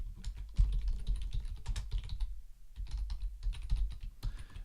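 Typing on a computer keyboard, steady close key clicks in quick irregular runs with a short pause midway, fairly quiet and with no voices.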